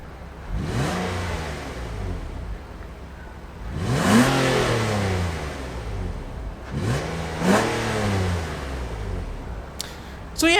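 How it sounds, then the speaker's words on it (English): A naturally aspirated V6 in a 2017 Nissan Altima sedan with a CVT revs up three times, each rise sweeping up and falling back, loud and close, with a brief clatter at the end. "So yeah, the engine, it sounds okay."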